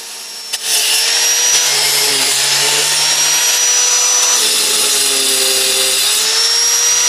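A power tool starts up and runs loudly and steadily at close range, its whining motor shifting pitch slightly as it cuts through a clamped wooden frame.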